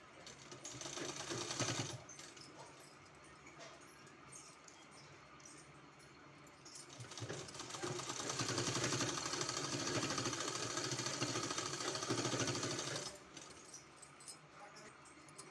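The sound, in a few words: sewing machine stitching kurti hem design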